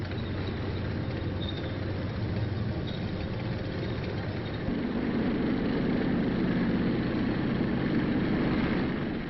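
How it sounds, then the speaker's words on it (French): Armored vehicles of a military parade roar past, a dense, steady engine rumble that swells louder and deeper about halfway through, continuous with no pauses. "Voici dans le tonnerre des moteurs l'armée blindée, triomphatrice des dernières batailles."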